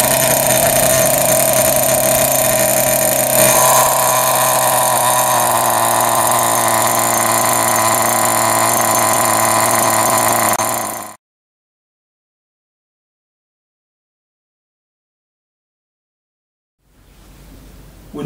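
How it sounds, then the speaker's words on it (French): A nitro-powered RC car engine runs on a stand during break-in with a loud, steady high-pitched buzz for about eleven seconds, cuts out to silence, then sputters back to life near the end. "on met la voiture sur un support comme ceci, on débarre le moteur, on laisse tourner le moteur"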